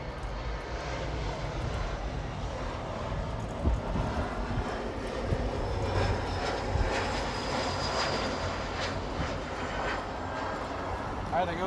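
Emirates 216 airliner departing LAX for Dubai, a loud sustained jet engine roar rising and holding steady throughout, with someone talking over it.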